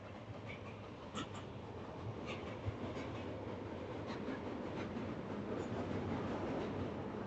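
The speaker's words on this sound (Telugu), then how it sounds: "నేను వచ్చాకే ట్రైన్ వచ్చింది." A train rolls past on a railway line beside a highway, a steady low rumble with faint rhythmic wheel clatter, heard from a short distance with no talk over it.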